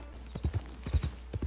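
Donkey hooves clip-clop in a short uneven run of soft hollow steps under a faint steady background hum, in the video game Red Dead Redemption 2.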